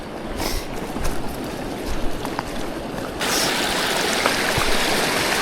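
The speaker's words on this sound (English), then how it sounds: "Back at this creek crossing." A creek rushes steadily at a trail crossing in northern British Columbia during high spring water, a close, continuous broadband flow that swells louder partway through.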